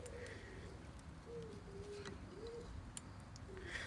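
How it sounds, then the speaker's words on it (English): Pigeons coo softly several times in a row, with gentle gliding calls over steady outdoor background noise and occasional faint chirps. "It's okay, bird, it's only pigeons this time."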